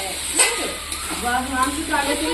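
Duck meat sizzles softly in a pan as it is stirred into spices, with a gentle scraping stir over the hiss and someone speaking over the cooking.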